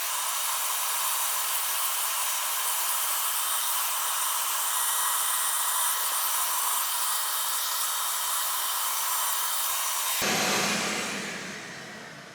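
A $99 shop vac sucks loose dirt out of a car interior, a loud steady airy roar with whistling hiss that runs unbroken for about ten seconds before the motor is cut and winds down.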